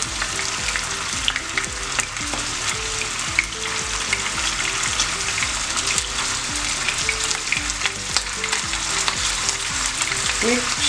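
Meatballs frying in a pan over medium heat, a constant crackling sizzle dotted with sharp pops and the soft scrape of turning, close and steady with no talk.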